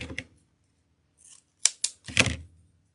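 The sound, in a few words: scissors trimming the tail of a lamb's ear wreath decoration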